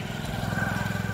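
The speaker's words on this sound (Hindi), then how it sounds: "एक बाइक आ रही है" A motorcycle approaches along a quiet, dark, cold street, its engine a brief pulsing throb at close-to-moderate distance with no talking.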